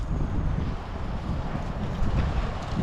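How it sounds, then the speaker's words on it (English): Wind gusts buffet the microphone while walking into Perth City, a loud, constant low rumble that runs throughout with no talk. "It's always windy in Perth City."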